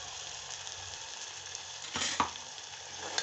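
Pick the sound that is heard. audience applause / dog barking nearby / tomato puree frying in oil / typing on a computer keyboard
tomato puree frying in oil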